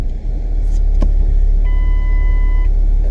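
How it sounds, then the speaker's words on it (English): A Ford Escape hybrid switched back on rumbles steadily up close, with a brief click and a short electronic beep tone partway through. "turn the car back on"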